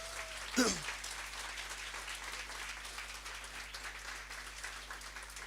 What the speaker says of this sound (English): can we give our online audience a round of applause?